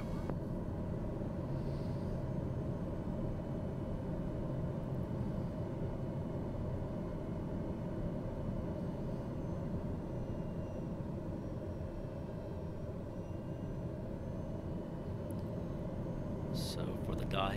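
A Delta airliner's engines run at dusk for takeoff on runway 27, making a steady, fairly quiet broadband roar with no clear rise or fall.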